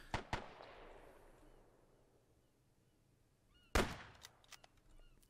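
Gunfire in Arma 3 with Imperial Guard against Japanese Imperial Army: two sharp shots with a long echoing tail fading into quiet, then a loud crack followed by a scatter of fainter distant shots.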